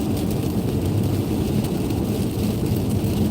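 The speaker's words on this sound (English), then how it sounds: "we are at all rain now" Steady rain falls in Issaquah in the Pacific Northwest, a dense continuous hiss that stays even and fairly loud throughout, with a low rumble beneath.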